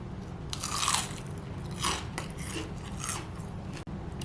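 Fried chicken coated in potato starch is bitten and chewed up close, with several loud crisp crunches spaced about a second apart, with no talking.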